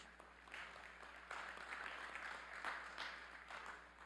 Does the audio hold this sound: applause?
yes